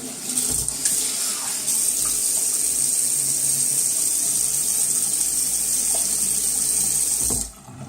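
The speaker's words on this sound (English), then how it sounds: "I'm just gonna wet the face real quick." A bathroom tap runs steadily for wetting the face before a shave with a RazoRock Amici razor, a close, loud hiss of flowing water lasting several seconds before stopping abruptly.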